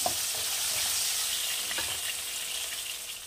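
Potatoes frying in hot oil with turmeric and salt, being browned lightly before prawns go into the same pan; a steady, dense sizzle with a few faint stirring clinks, close and continuous, no talk.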